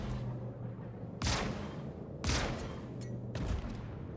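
Laser scatterguns fire from an Anvil F7C Hornet Wildfire in the space combat game Star Citizen: three loud, sharp bursts spaced about a second apart, each a bright crackling blast over a steady low engine hum.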